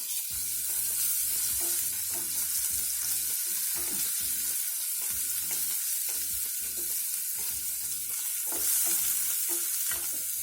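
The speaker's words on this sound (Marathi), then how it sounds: "लसूण पेस्ट टाकून घेते त्याच्यामध्ये व्यवस्थित हलवून घ्यायचं" Garlic paste stirred as it fries in a pan for a bottle gourd curry, a steady close sizzle broken by repeated scraping strokes of the spoon throughout, with no voices.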